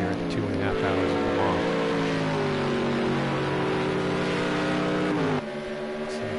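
Race cars circle Le Mans in the Project Cars 2 racing game, loud engine whine rising and shifting through gears as cars run close together, with a sudden drop in intensity near the end.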